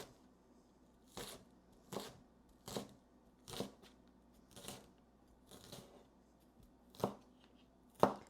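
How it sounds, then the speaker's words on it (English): A knife chopping green onion on a cutting board: about nine separate crisp chops, evenly spaced roughly a second apart, close and clear in a quiet kitchen with no talk. "And just chop the green onion."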